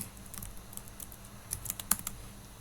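Code being typed on a computer keyboard, a quiet run of scattered key clicks that cluster more densely toward the end, close but soft.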